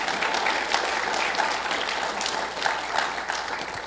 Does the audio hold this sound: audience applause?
yes